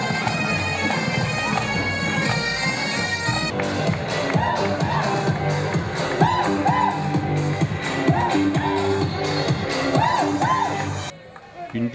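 Crowd gathered in the streets of Lamballe for a carnival parade with floats, costumes, brass band and bagad, a dense festive hubbub of voices and cheers layered with music, continuous and fairly loud, briefly thinning near the end.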